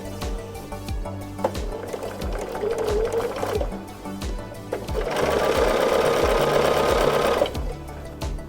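A sewing machine chain-pieces quilt blocks for a sampler quilt: a loud, rapid mechanical stitching whir that surges in bursts, with brief pauses and handling noises between runs, and no speech.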